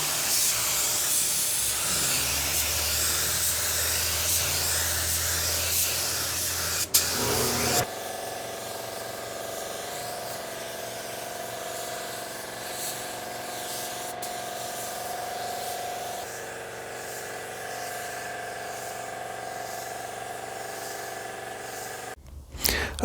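A spray gun lays a second coat of paint on a car during spot painting, a loud, steady airy hiss in the opening seconds that gives way to a quieter, steadier background.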